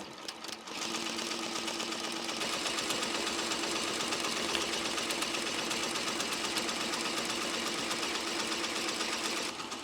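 Embroidery machine stitching a letter at slow speed, a steady close mechanical whirring chatter with a regular rapid needle rhythm, running continuously after a brief start.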